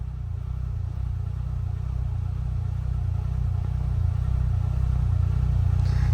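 A 2024 Polaris utility vehicle engine idles steadily with a low, even rumble, close and continuous with no talking, growing slightly louder toward the end.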